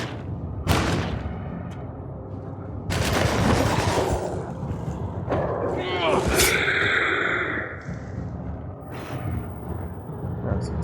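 Gunfire from the video game Alone in the Dark sounds out in several loud, booming shots with gaps between them, mixed with game effects while a person talks over it.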